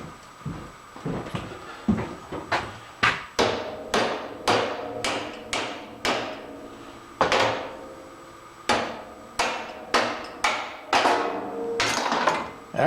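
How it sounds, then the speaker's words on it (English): A sledgehammer pounds repeatedly and close by during work on a wire brush lathe mandrel. Sharp, heavy blows come in a fairly steady rhythm, about seventeen of them, with brief pauses and no talking. "let's go get a sledgehammer and see what we got"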